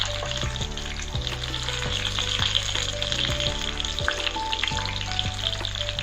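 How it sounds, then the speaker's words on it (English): Steady sizzling of a Kolkata-style chicken kabiraji cutlet frying in hot oil, continuous crackle with faint background hum and occasional light clicks. "you have to make sure that properly the chicken is even cooked while frying it"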